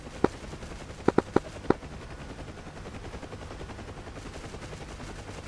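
Helicopter door gunners firing machine guns in the DCS flight simulator, with a few short sharp bursts standing out over a constant rotor and engine hum.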